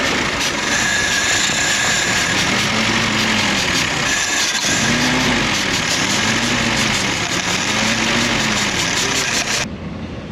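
A 1942 Jeep Willys engine idles loudly and steadily, a rapid even chug with a brief dip midway, then cuts off at the very end.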